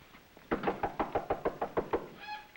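Knocking on a door in a vintage Dick Tracy crime television promo: about nine firm, evenly spaced raps in quick succession, close and distinct, ending with a faint tonal ring.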